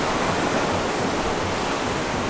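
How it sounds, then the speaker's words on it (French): Ocean waves surge onto the beach at Kribi with a loud, continuous broadband roar of surf, heard close by and without a break. "la mer, quoi, toute bleue aujourd'hui, avec pas mal de vagues quand même"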